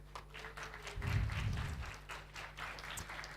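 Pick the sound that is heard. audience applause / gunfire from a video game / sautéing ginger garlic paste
audience applause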